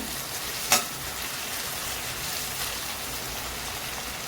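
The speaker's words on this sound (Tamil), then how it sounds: "ஒரு கொத்து கறிவேப்பிலையும் சேர்த்து வதக்கி விட்டுக்கிறேன்" Vegetables and a sprig of curry leaves frying in oil in a pan for sambar, making a steady even sizzle with one sharp utensil click near the start.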